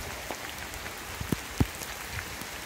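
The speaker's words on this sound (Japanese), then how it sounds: "大雨だな。" A sudden heavy downpour pours steadily outdoors, a dense broadband hiss of rain with a few sharper drops or splashes standing out, fairly close, with no talking.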